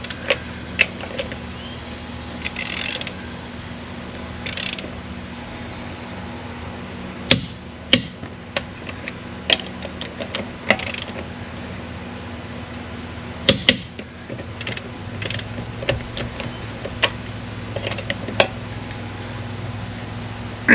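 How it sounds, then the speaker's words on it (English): A Suzume torque wrench tightening lug nuts on a Ram 2500 pickup, giving sharp metallic clicks at irregular intervals with light ratcheting and handling noises between them, fairly close. "Nice, smooth, stroking action till you click off."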